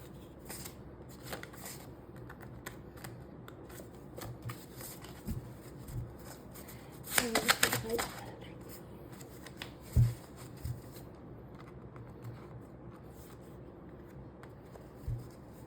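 Tarot cards are shuffled by hand in a quiet room, with soft papery riffles and rubs, one brief louder burst of rapid flicking in the middle, and a few taps, all close and gentle without speech.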